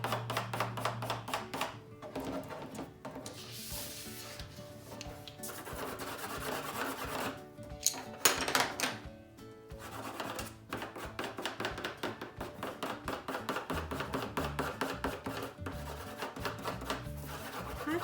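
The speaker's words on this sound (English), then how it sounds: "I just have my pencil to the side and it gives me a bigger marking surface and I can go pretty quickly" A pencil held on its side scribbles rapidly across paper while shading a drawing of a narwhal, producing close, rhythmic scratchy strokes in quick bursts with short pauses and no talking.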